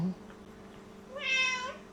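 A cat meows once near a kitchen while tuna sandwiches are being made, a short rising-and-falling cry heard faintly over a low steady background hum.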